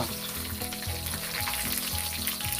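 A cha-om (acacia leaf) omelette fries in a pan with a steady, loud crackling sizzle that continues unbroken throughout, without any voices.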